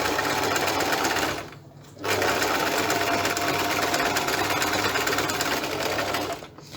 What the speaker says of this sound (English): you're going to sew 1 centimeter all the way along